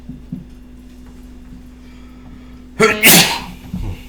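A single loud, sharp sneeze, close and sudden after a quiet stretch with a low steady hum, followed by a brief sniff.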